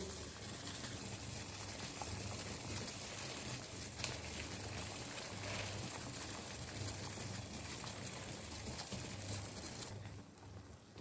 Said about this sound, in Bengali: এই যে দেখো জলটা একদম ভালোভাবে ফুটে এসছে